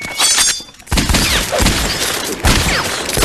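Movie shootout gunfire, loud and close, with a dense volley of shots and crashing impacts, a short lull, then more bursts of fire and breaking debris, with no talking.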